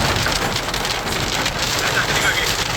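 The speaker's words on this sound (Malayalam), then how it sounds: "ഭയങ്കര മഴ പിന്നെയും പെയ്തു" Heavy rain pours down steadily at Melaruvi Waterfalls in Kanjirapally, a dense, loud, unbroken hiss of drops with no pauses.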